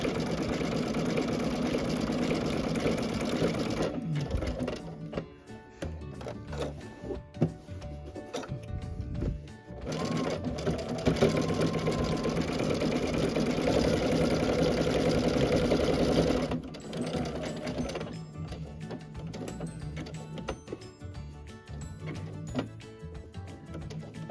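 Sewing machine stitching a blanket stitch on a scrappy Dresden quilt block, a close, steady whirring hum with a rapid mechanical chatter, stopping and restarting several times between runs.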